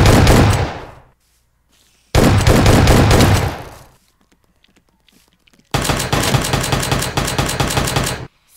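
Rapid automatic gunfire from a Minecraft guns mod comes in three loud bursts, each about one to two and a half seconds long, separated by short silences, with no talking over them.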